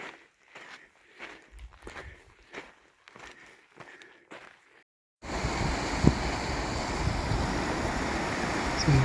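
Whitney Creek flowing beside a ranger station, a broad steady rush of water that starts abruptly partway through and stays loud and close, after a stretch of footsteps on rock.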